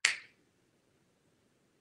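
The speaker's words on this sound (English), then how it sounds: "go ahead and snap your fingers" A single sharp finger snap, close and crisp, followed by quiet room tone.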